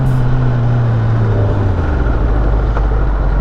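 A Kawasaki Ninja ZX-10R sport bike engine is loud and close, dropping in pitch as it downshifts through the gears over a continuous road roar, with no talk.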